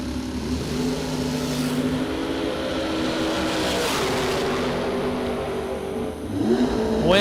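Drag racing cars, a 1967 Camaro and a roadster, roar steadily at the launch, a loud sustained engine drone with rising pitch near the end.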